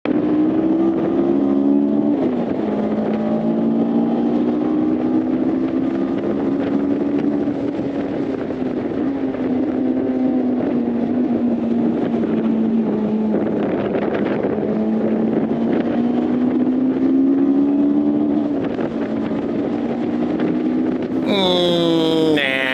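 A Honda S2000 engine hums and revs up and down steadily and close on a race track on a damp day, its pitch rising and dipping, with a sharper rev burst near the end.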